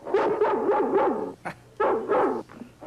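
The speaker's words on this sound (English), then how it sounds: "Oh, that dog. He gives me the yitters." A dog barks in repeated bursts in a 1950s film soundtrack, two clusters of yipping, whimpering barks separated by a short pause, fairly close and loud with no talking over it.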